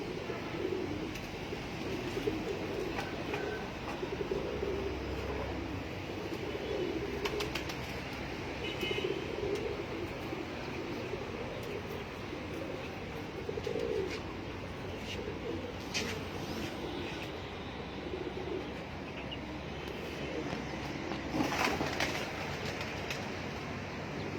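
Soft, repeated coos from a Kundan pigeon sit beneath a steady background hum, with occasional faint fluttering and distant noise.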